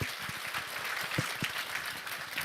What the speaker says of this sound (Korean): 우리 장로님 나오실 때 큰 박수로 환영하도록 하겠습니다.